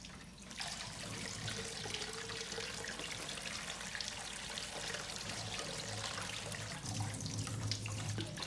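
Water runs steadily from a kitchen tap into a sink while a cake-decorating tool is dipped in it, a faint, continuous splashing stream lasting throughout with no talking.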